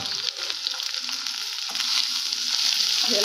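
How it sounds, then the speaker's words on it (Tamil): Okra frying with masala powder in a pan on low gas, a steady close sizzle with light stirring, alone and without speech. "இது எல்லாத்தையும் கேஸ் கம்மி பண்ணிவிட்டு கொஞ்சம் நல்லா ஃப்ரை பண்ணிடலாம்."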